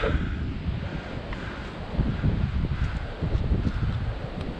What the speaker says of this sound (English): The wind's already blowing this way.